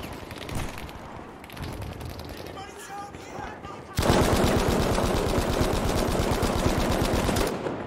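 Automatic weapon fire in the shooter game Battlefield V, first muffled and then loud and rapid with a steady rattling rhythm over the last four seconds, with voices in the background.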